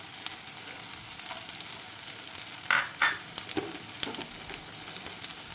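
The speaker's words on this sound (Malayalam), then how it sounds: "പെപ്പറും കൂടിയിട്ട് ഈ ഇതിൻ്റെ കൂടെ ഷാലറ്റിൻ്റെ കൂടെ ഇട്ടിട്ട് ഒന്ന് സോട്ട് ചെയ്യാൻ പോവുകയാണ്" Shallots and pepper sauté in hot oil for a home-style fish curry, giving a soft, continuous sizzle with a few brief louder crackles and stirring scrapes.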